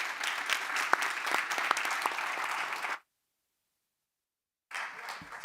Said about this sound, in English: Give a big hand of applause and then up for the coffee.